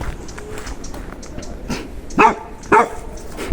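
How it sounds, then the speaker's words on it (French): A small dog barks twice in sharp, fairly close yaps outdoors on a countryside walk, over a steady background hum. "Ah, un petit chien."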